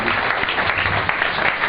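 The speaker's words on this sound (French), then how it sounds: "Acclamons très fort." A church congregation applauds loudly, a dense, continuous clatter of clapping with a murmur of voices through it.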